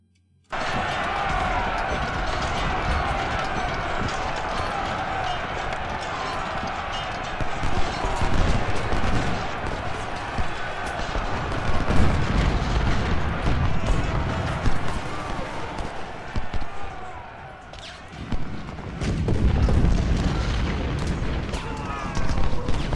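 Musket volleys and artillery booms from the Civil War strategy game Ultimate General, a dense continuous battle din with heavier blasts around the middle and near the end, with a voice talking over it.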